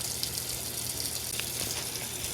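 Steady rush of water streaming into a Maytag Atlantis washer tub, a continuous even gush heard close up with no talking over it.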